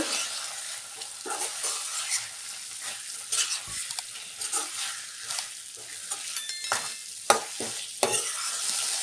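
Boiled baby corn gets stirred into a simmering gravy in a pan, with a soft sizzle running throughout and intermittent scraping and clinking of the spoon against the pan, quiet and close.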